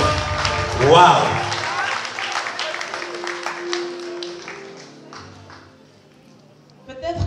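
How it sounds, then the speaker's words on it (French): Applause and cheering at a church thanksgiving evening in La Chaux-de-Fonds, starting with a loud burst and excited voices, then settling into a steady patter that fades toward the end. "ça mérite des acclamations"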